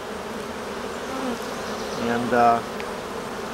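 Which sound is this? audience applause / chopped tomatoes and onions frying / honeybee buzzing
honeybee buzzing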